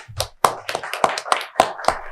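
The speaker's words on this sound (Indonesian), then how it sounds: "mungkin biar semangat saya boleh minta tepuk tangannya" A small audience gives a short burst of applause at a tech talk, about eight distinct, fairly sparse claps spread over two seconds, fairly close and clear.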